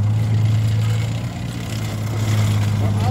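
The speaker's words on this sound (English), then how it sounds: "The engine you can hear. There we are, you've got twin Detroit diesels in the back there pushing around." Twin Detroit diesel engines of a Sherman tank (M4A2) driving past at a tank show, a steady low rumbling drone with a strong hum, close and continuous, with people talking over it.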